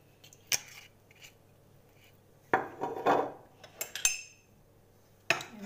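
Vegetables mixed in a bowl with a little salt and olive oil while preparing lunch, producing sparse clinks and scraping clatters of a utensil against the bowl, separated by quiet pauses.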